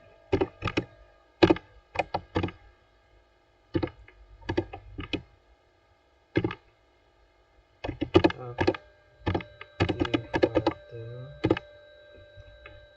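Keys clatter on a computer keyboard as terminal commands are typed, in short bursts of close, crisp clicks separated by pauses, with a quiet electronic hum beneath.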